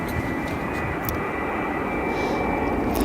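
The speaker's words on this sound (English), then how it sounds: "we will have a Boeing 737-823 arriving from New York, EWR" American Airlines Boeing 737-823 arriving at O'Hare from Newark, a steady jet-engine whine with a thin high tone over a constant rumble, moderately loud and unbroken.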